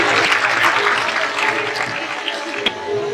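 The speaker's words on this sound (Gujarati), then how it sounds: "આપણે તાળીઓથી એને વધાવીશું" Audience clapping at a public event in Idar with the Gujarat chief minister present, a dense burst of applause that gradually thins and fades over a few seconds.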